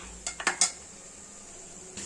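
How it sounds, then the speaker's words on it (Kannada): A spoon scrapes and clinks against a pan of spinach masala a few times in quick succession, then the kitchen goes quiet apart from a low hum. "ಈಗ ಮಿಕ್ಸ್ ಮಾಡೋಣ ಚೆನ್ನಾಗಿ"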